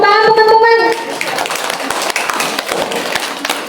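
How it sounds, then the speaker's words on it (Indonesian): Children clap their hands during a storytelling session, a ragged burst of close claps following a sung or held voice, with scattered taps and thumps continuing afterward. "tepuk tangan teman-teman"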